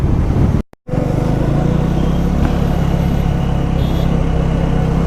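A 2026 Triumph Tracker 400 motorcycle is ridden on the road, giving a steady, loud blend of engine drone and wind rush that cuts out briefly near the start. No one speaks.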